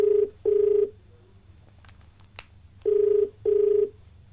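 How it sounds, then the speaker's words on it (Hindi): A telephone rings out on a call to a viewer during a farming question-and-answer TV program, two pairs of steady electronic ring bursts separated by a quiet gap, clear and close with no talking. "और चलिए फोन लगाते हैं अपने अगले दर्शक को।"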